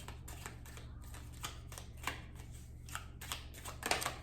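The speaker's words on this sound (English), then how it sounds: "So I'm shuffling too fast." Quick riffling snaps of cards being shuffled, a rapid run of soft flutters and taps close up and fairly quiet, with a faint low hum beneath.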